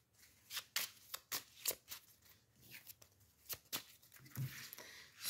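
Tarot cards being handled and laid out during a reading, heard as a quick series of crisp close-up snaps, slides and flicks in an irregular rhythm, fairly soft and with no talking.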